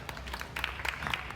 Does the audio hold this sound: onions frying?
no